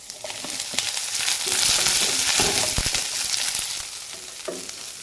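Chopped onions and green chilies hit hot oil in a pan and fry with a loud, dense sizzle that swells and then settles, along with a few stirring scrapes, close up and with no talk.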